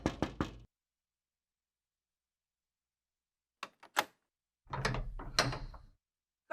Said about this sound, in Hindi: मैं खोल के आती हूँ दरवाजा।